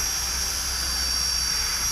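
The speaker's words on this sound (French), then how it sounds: "Le drone est parti, décollage automatique." An SJRC Z5 GPS drone hovers after automatic takeoff on a windless morning, a steady, even high-pitched whine from its spinning propellers holding constant throughout with no talk over it.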